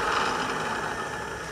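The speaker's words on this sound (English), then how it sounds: "So the motor is still working." A Mr. Deburr 300DB vibratory parts tumbler motor runs with a steady, even hum and buzz, constant in loudness with no speech over it.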